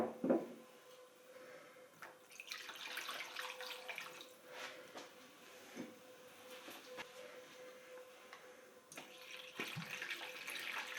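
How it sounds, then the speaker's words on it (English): A cyanotype print is rinsed under ordinary tap water in a sink, a soft steady run of splashing and trickling with brief louder gushes and bumps, close and faint. "We're gonna rinse the print with water."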